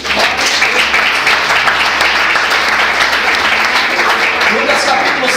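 A church congregation applauds during a sermon: dense, steady clapping from a large indoor crowd, loud and sustained for several seconds.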